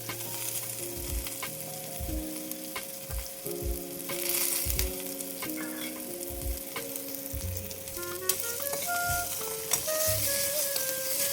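Curry leaves and green chilli paste crackle and sizzle steadily in hot oil for tempering, with occasional stirring clinks and pops throughout.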